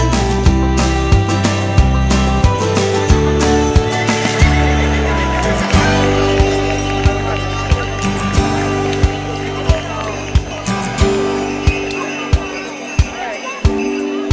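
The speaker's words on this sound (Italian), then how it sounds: "Cavallo un po' nervoso." A horse whinnies and snorts amid steady clip-clop hooves and a murmuring crowd at an equestrian show-jumping event, with sharp thuds repeating near the end.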